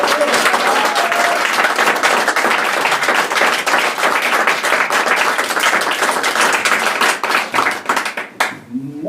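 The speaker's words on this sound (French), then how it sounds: "Je vous demande d'applaudir Cécilia." A live audience at an event in Aix-en-Provence breaks into loud, sustained applause, dense clapping filling nearly nine seconds before thinning out and fading at the end.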